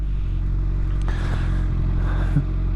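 A Suzuki Hayabusa motorcycle accelerates hard during a runway speed run. A loud, continuous engine roar builds as it rises through the gears, with a shift change partway through and no talk.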